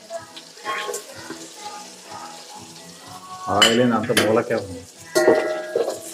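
Whole pulao spices fry in hot oil inside a rice cooker, a soft crackling sizzle that swells into louder, bubbling bursts of spattering midway and again near the end.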